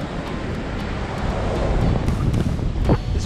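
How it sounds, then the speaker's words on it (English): Strong wind blowing across Vilano Beach in St. Augustine, Florida, battering the microphone with steady rough rumbling noise and occasional gusty buffets, with surf faintly underneath. "This wind is crazy"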